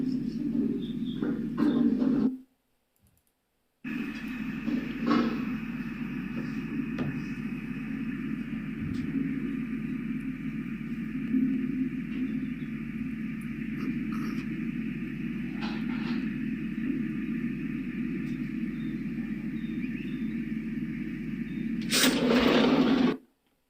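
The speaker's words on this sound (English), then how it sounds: "And we're listening to the diesel run." A diesel truck engine idles in a steady low drone with a faint tonal hum above it, heard from some distance for over twenty seconds apart from a short gap near the start, with a few faint clicks and bird-like chirps.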